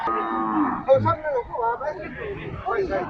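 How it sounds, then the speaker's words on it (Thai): Water buffalo lowing at a cattle and buffalo livestock market in Thailand, a loud, close, drawn-out moo with a few shorter calls and harmonic groans, with background chatter. "เดี๋ยวปิดคลิปไปเบิ้งควายหน่อย สองตัวนะครับ"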